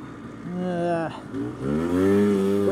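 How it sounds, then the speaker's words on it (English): A Polaris Scrambler 250 three-wheeler with a 246cc air-cooled two-stroke engine revs up in the snow. It is loud and close, with a buzzing drone that dips and then climbs sharply in pitch as the throttle opens. "246, I believe, cc air-cooled 2-stroke engine."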